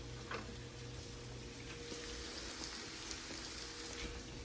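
Garlic cooking with browned mushrooms in a pan: a faint, soft, even sizzle with scattered light pops, steady for a few seconds with no talk.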